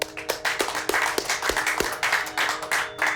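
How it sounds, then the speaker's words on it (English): A small group claps in a short burst of applause, the hand claps uneven and fairly close, fading toward the end. "So give yourselves a round of applause"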